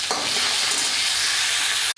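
Sliced tomato, spring onion and coriander frying hard in a pan for Hakka noodles: a loud, dense, unbroken sizzle up close that cuts out abruptly at the very end.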